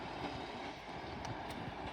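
Class 158 diesel multiple unit on a terminating service from Scarborough rumbles at York station, a faint low drone with light clicks of wheels.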